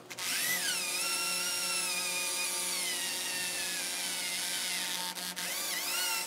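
A power drill bores a hole through steel, a loud continuous whine that dips and rises in pitch as the bit bites, dropping briefly near the end before spinning up again.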